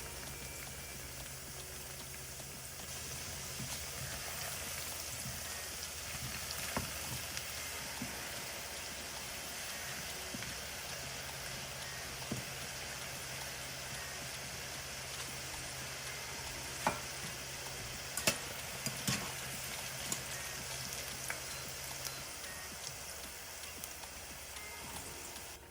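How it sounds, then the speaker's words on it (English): Plantain slices fry in oil with a dense, steady crackling sizzle and occasional sharper pops and utensil taps, moderately quiet and continuous with no talking. "the first thing we're going to do is to fry the plantain until they are golden brown"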